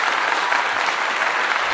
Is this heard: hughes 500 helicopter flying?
no